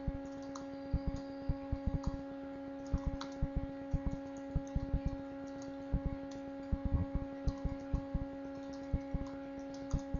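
Text being typed on a computer keyboard, with irregular bursts of light clicking keystrokes close by over a faint steady electrical hum, and no talk.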